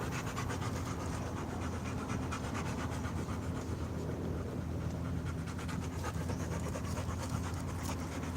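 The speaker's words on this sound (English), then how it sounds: "You probably hear the big-headed Rottweiler." A big Rottweiler pants heavily and rhythmically close by, a continuous loud breathy huffing with no talking over it.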